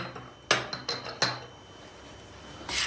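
Spoon clinking and scraping against a tray while flour, red pepper flakes and salt are mixed for coating chicken livers, four sharp metallic knocks in quick succession followed by quiet rustling, close and clear with no talk.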